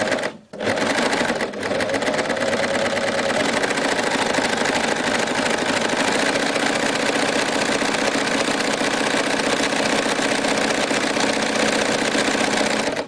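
A sewing machine stitching a rolled hem in a steady, continuous whir with a fast, even mechanical rhythm, close and loud, running almost without a break after a brief start.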